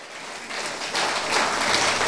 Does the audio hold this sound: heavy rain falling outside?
no